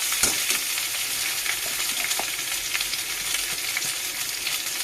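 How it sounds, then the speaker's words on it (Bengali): Cut potato pieces frying in a pan with drumsticks for a fish curry, a loud steady sizzle with scattered spatters and stirring scrapes, no talk. "আলু কাটা এর ভিতরে ভেজে নেবো সজনাটাও দেওয়া হয়ে গেছে"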